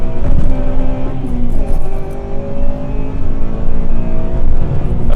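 Inside a Honda EP3 Civic Type R on a wet road, the VTEC engine revs hard and loud, rising and falling through the gears over steady road and tyre noise, with no talking.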